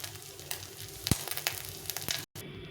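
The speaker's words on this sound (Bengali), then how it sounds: "মাছগুলো ভাজা হয়ে গেছে, মাছগুলো উঠে নেব" Fish fried reddish-brown in hot oil sizzle steadily while pieces are lifted out. Sharp scrapes and clacks of a utensil break through the hiss, close and fairly loud, with a brief gap near the end.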